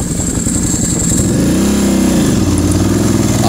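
A Ducati Hypermotard 1100 motorcycle engine runs loud and close, its V-twin rumble rising and falling as the throttle is blipped and revved, with a dense, continuous mechanical roar and no voices.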